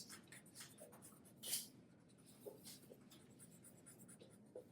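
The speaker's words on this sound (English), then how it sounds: "And then I can draw the cutoff line there to there." A pencil drawing a line along a ruler, a faint dry scratching with a few light taps, close and quiet, with no talk.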